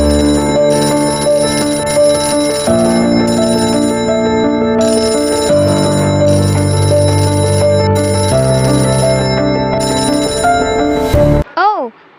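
A telephone rings loudly and close in repeated bell bursts with short pauses between them, then breaks off into a brief warbling tone.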